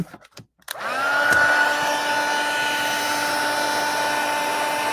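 A craft heat tool switches on after a few faint handling taps and blows hot air onto a tea cup card, with a loud, steady, close whirring hiss that holds evenly to the end, with no talk.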